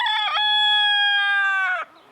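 A rooster crows loudly and close by, one long sustained call with a brief clucking note before it. It sounds out from a flock of hens, and the call ends sharply into near quiet.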